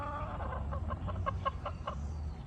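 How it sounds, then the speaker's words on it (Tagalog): Chickens cluck at feeding time in a steady run of short, evenly spaced clucks over a constant low background, moderately close, with no voices. "tapos na po silang magpakain ng mga warriors, mga kachikines"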